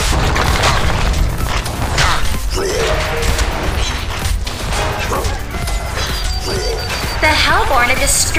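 A Legion tower collapsing in Heroes of Newerth, heavy booms and crashing debris over constant battle noise, loud and busy, with an announcer-style voice speaking over it.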